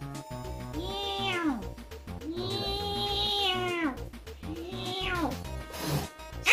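A cat meows three long, drawn-out times with short pauses between, loud and close, ending with a brief rustling noise.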